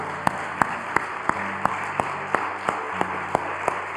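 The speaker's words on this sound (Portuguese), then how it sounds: "por que não dás um aplauso a Cristo?" Within a sermon on the seven last words, a congregation claps for Christ in sharp, evenly spaced beats, a steady rhythmic pulse over quiet background sound.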